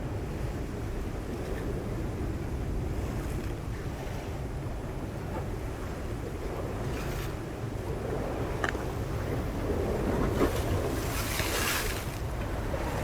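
Sea waves wash onto a Costa Brava shore and the backwash pulls off it in a steady, continuous rush, with wind noise over the microphone and a few louder surges near the end.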